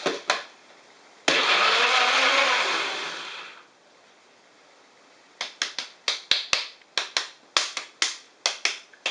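Blender chopping wonton filling with garlic and salt, one sustained loud whir of a couple of seconds that winds down, followed by a rapid series of short sharp pulse bursts, no voices.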